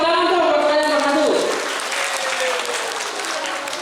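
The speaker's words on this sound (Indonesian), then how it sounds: "Oke, tepuk tangan dong buat kalian yang maju." An audience of school students at a disaster mitigation outreach session claps for classmates who came forward, a full burst of applause rising under a speaking voice and carrying on steadily before easing slightly.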